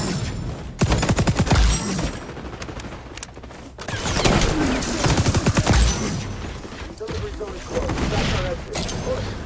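An ACR assault rifle blazes in rapid automatic bursts in the XDefiant shooter game, with several dense volleys of gunfire over busy in-game noise and someone talking throughout.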